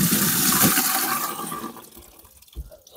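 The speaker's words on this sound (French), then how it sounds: "je mets un fond d'eau dans l'arrosoir" Water pours into a watering can in a vegetable garden, a loud gushing splash that tapers off over a few seconds, ending in faint drips and trickles.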